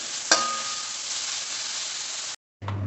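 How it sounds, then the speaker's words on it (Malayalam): Onions frying in oil with crushed ginger for a roasted coconut soy chunk and potato curry give a steady, close sizzle with a stir near the start, cutting out briefly before the hiss resumes. "ഉള്ളിയൊക്കെ നല്ലോണം ഒന്ന് മൂത്ത് വരട്ടെ."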